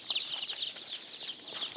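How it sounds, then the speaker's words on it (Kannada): Many day-old native country chicks cheep in a brooder, a dense, continuous chorus of high, overlapping peeps at moderate loudness, with no voices. "ಇವಾಗ ನಮ್ಮ ಹತ್ರ 1250 ನಾಟಿ ಕೋಳಿ ಮರಿಗಳಿದೆ"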